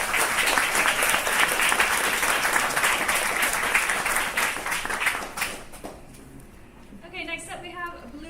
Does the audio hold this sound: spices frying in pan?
no